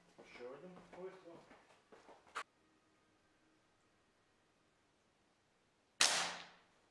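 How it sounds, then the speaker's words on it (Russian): A Smersh R10 rifle fires one sharp, loud test shot indoors at about 15 metres. A brief decaying tail follows, after someone speaks and a short click is heard. "Еще один выстрел."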